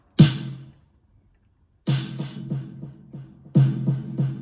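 Heavily distorted drum hits punch out in short bursts, a big crunchy kick and snare pattern with a pause after the first hit, distorted with Logic's Distortion plugin.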